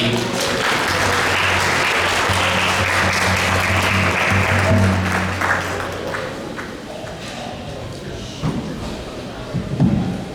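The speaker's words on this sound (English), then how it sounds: "Can you give a big round of applause once again?" Loud crowd applause after a Hare Krishna lecture on forgiveness at ISKCON Toronto, many hands clapping densely for about six seconds over a sustained musical drone, then thinning into scattered claps and a few thuds.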